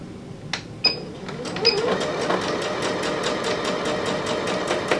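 A sewing machine runs a continuous straight stitch around the edge of a fabric reading cushion, a few clicks at the start, then a steady rapid mechanical chatter that carries on to the end, close and clear, no voices.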